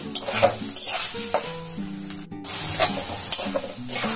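Rice frying in plenty of ghee while being stirred, a steady close sizzle with repeated spoon scrapes and clinks against the pan, plus faint background music.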